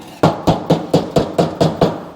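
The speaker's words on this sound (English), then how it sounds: "Why are you beating on it with the hammer" A hammer beating on the tank fill tube area of a John Deere tractor to knock loose stuck debris, nine sharp metallic blows in a quick even rhythm, loud and close with nothing else heard.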